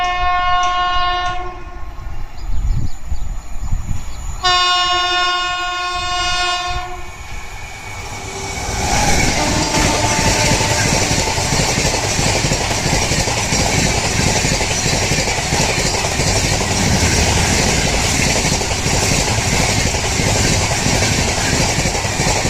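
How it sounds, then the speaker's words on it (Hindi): Tejas Rajdhani Express 12952 passing: long multi-tone horn blasts, then a loud, continuous rumble and clatter of wheels on rails as the coaches rush by close up. "बारह 952 तेजस राजधानी एक्सप्रेस।"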